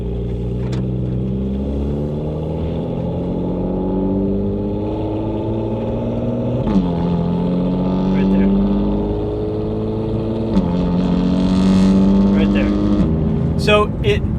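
BMW M4 GTS with S55 engine and Active Autowerke equal-length exhaust, cruising at light throttle around 2,000 rpm with a steady low drone and slight rasp, rising and falling in pitch, with someone talking over it.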